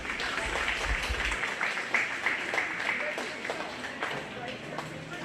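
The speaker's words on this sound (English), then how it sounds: "Go ahead and give that young person a nice round of applause" Audience applause at a 4-H/FFA goat show, a steady wash of scattered clapping with sharper individual claps through it, moderately loud and continuous, with some background voices and a brief low rumble at the start.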